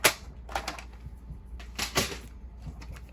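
Scissors cut a strip of card in half, making a few crisp close snips in quick clusters, each a short sharp crunch separated by brief pauses.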